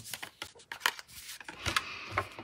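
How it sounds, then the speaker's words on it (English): A mini Stampin' Cut and Emboss die-cutting machine cuts through a small piece of cardstock, giving a string of close, dry crackles, taps and brief crunches that come in uneven bursts with no talk over them. "I can use my mini Stampin' Cut and Emboss machine"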